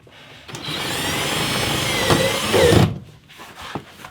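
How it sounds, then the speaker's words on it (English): A power drill drives screws into van wall paneling, whirring loudly and steadily for about two seconds before it winds down and stops, followed by faint handling clatter. "now I just go around and screw the rest in"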